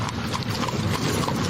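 A horse's hooves clip-clop in a quick, continuous rhythm, loud and close, on a ride around a park.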